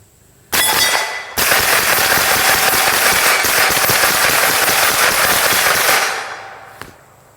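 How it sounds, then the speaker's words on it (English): A suppressed Windham Weaponry 9mm blowback carbine fires a rapid magazine dump at a steel target, a dense burst of closely spaced shots and impacts lasting about five seconds, loud and near, then stopping abruptly. "We're just going to do a mag dump, and and check the last round bolt hold open and see how it handles with the suppressor on"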